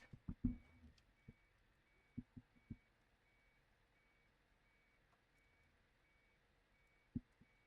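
A truck reversing with a short trailer in Euro Truck Simulator 2, quiet steady reversing beeps under a faint engine hum, with a few soft low thumps near the start and one more near the end.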